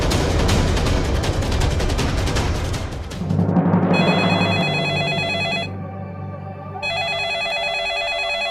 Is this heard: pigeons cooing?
no